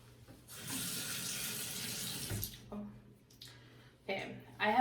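Water running from a bathroom tap during a night time skincare routine, a steady rushing stream for about two seconds, then splashes and wet sounds as a face is washed, with some talking.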